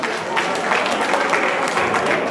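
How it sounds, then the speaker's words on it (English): Applause at a Yoruba community launching and inauguration ceremony in Aachen, Germany, a dense, steady clapping from a crowd that fills the whole short stretch, with voices mixed in underneath. "Give them a round of applause, please."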